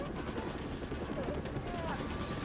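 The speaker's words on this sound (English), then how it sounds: "How does a helicopter sneak up on someone?" A military helicopter from the video game Dead Rising flies overhead, a steady loud rotor drone and engine roar filling the whole clip without letup, with talk likely mixed underneath.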